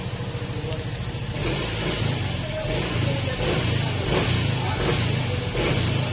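A Yamaha M3 scooter engine, just repaired after a fault that made it stall and idle poorly, runs close by with a steady buzzing idle that rises into a sustained rev and holds there.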